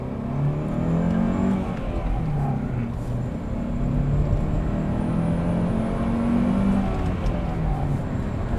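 A 2nd-generation Honda CR-V with a 5-speed manual accelerating, heard from inside as a loud, steady engine drone that rises and falls through the gears, with a low rumble and no talk.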